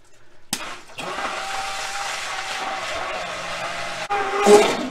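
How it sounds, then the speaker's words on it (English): A stick blender purees chile peppers for a beef chuck roll chile colorado stew, starting abruptly and running as a loud, steady motor whir for about three seconds before cutting off. "I think the stick blender will get the job done."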